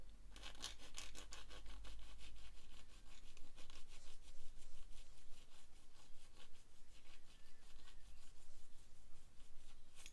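Close, steady rubbing and scraping as a sprue nib on a 1/48 scale Bandai Star Wars AT-ST plastic model kit part is sanded smooth, a continuous gritty friction sound that gradually softens, with no talking.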